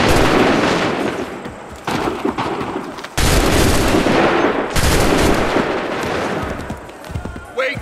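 Massed musket volleys in Assassin's Creed 3 crack out as loud, dense bursts of overlapping shots, roughly three big waves in a row, each rolling into sustained crackling battlefield noise.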